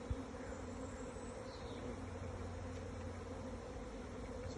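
A honeybee swarm pours out of a hive entrance, a dense continuous buzzing drone of countless bees at moderate distance, steady throughout without speech.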